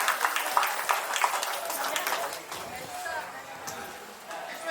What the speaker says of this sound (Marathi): सर्वांनी टाळ्या वाजून त्यांचा सत्कार करावा.